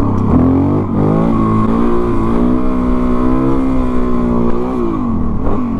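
A dual sport motorcycle engine revs hard for a wheelie, a loud, close, continuous drone whose pitch climbs and dips in several swells across the whole stretch, with no voices.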